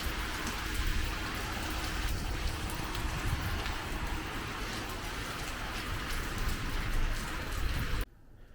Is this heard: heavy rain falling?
yes